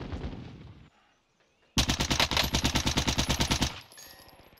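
Rapid burst of automatic C58 rifle fire in the video game Warzone, a dense string of loud shots lasting about two seconds after a brief quiet gap, with softer game sounds before and after.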